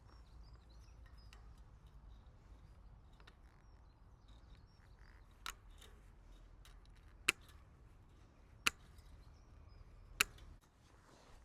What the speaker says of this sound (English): Trim that bit of wire mesh off there, get me cutters